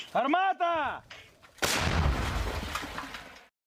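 A voice calls out briefly, then a single heavy blast from a 105 mm Melara howitzer booms loudly and rumbles away for about two seconds.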